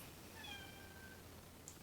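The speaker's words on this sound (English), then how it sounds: "Can you hear my cat? She wants in." A pet cat meows indoors to be let in, a faint drawn-out call of about a second, fairly distant under quiet room noise.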